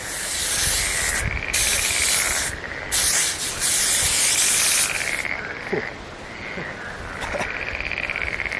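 Insect repellent spray hisses in three long bursts outdoors beside a marsh, with frogs croaking faintly in the background between sprays.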